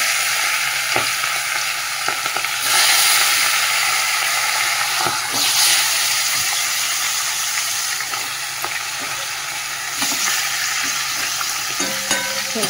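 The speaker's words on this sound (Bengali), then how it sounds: "তেল তো গরম হয়ে গেছে, মাছের মাথাগুলো দিয়ে দিই" Loud, steady sizzling of fish heads frying in hot oil, with occasional spatters and a few utensil knocks close by.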